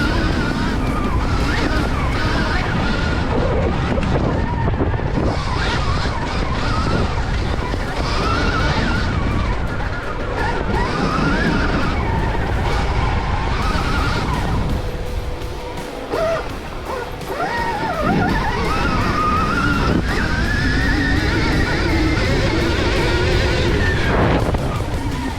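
A motocross motorcycle ridden fast along a sand track at a race in La Tuque, Quebec, its engine roaring loud and continuous under heavy wind buffeting on the microphone, pitch rising and falling as it accelerates.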